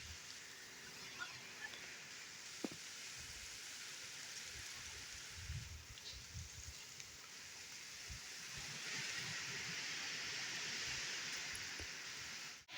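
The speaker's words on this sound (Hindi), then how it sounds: "हिन वक़्तु बरसाति तेज़ रफ़्तार में जारी आहे।" Heavy rain pouring down in a village, a steady broadband hiss that swells louder toward the end, with scattered low thumps and drips underneath and no talk.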